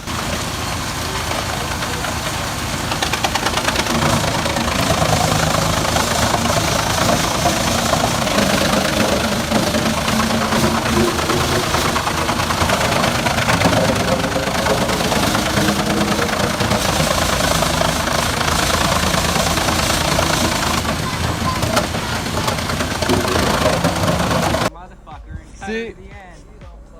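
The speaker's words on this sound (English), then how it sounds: "The New Holland runs flat out just to keep the chipper fed." A New Holland tractor engine runs flat out driving a wood chipper, a loud, dense, continuous mechanical roar with knocking vibration that holds for most of the stretch, then cuts off near the end, leaving quieter sounds.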